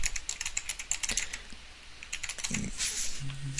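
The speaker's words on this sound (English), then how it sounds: "I'm typing that in again because I typed it in wrong." Typing on a computer keyboard, with rapid, uneven clicks in bursts that are near and moderately loud, plus a brief low hum near the end.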